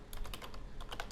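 Soft, quick keystrokes on a computer keyboard while console commands are entered, a short irregular run of faint clicks heard close and alone.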